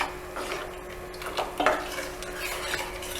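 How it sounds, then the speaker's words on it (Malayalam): Buttermilk being stirred into a Kerala-style moru curry in a pan, with soft, close scraping and swishing strokes of a spoon over a low simmering hiss, and no talk. "ഇനി നമുക്കിതിലേക്ക് നമ്മൾ ഉടച്ചു വെച്ചിരിക്കുന്ന മോരൊഴിച്ചു കൊടുക്കാം. നന്നായിട്ട് മിക്സ് ചെയ്യണം."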